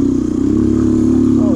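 A Honda XR200 dirt bike on an off-camber single track, its engine droning loud and steady up close with a slight rise in pitch toward the end.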